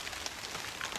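Steady rain pouring down outdoors at a marsh fishing spot, a dense continuous hiss of drops with no voices.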